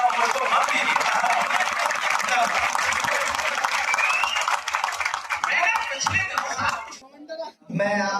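Loud, dense applause fills a Hindi poetry recital at a college kavi sammelan, sustained for about seven seconds before fading, with a voice starting to speak at the very end.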